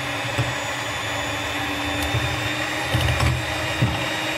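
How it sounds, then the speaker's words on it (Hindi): A hand mixer whips chilled cream with a steady, continuous motor whir that stays close and even throughout, with no talking. "I am using the this blender और हैंड मिक्सर"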